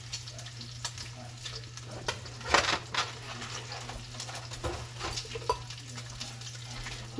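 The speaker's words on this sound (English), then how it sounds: "Constantly stir your bacon, guys. Get it crisp." Bacon frying in a pan while being stirred: a steady sizzle runs throughout, with scraping stir sounds and brief louder crackles, and a low steady hum beneath it.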